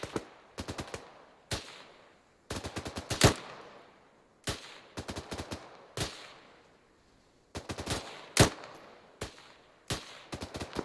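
An L85 rifle fires in short, sharp bursts during training, with several rapid volleys of cracking shots separated by brief pauses, loud and close with a little echo trailing each burst.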